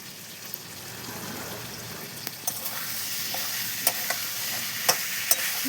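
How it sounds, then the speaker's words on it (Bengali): Prawns and pointed gourd cooking in spice paste in a pan, stirred with a steady frying sizzle throughout and a few sharp spoon scrapes and clicks near the end. "নাড়িয়ে চাড়িয়ে নিচ্ছি মশলাটাকে"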